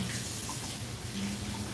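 Hot tap water runs into a kitchen sink while hands are rinsed after making cabbage rolls, a soft continuous steady stream without speech.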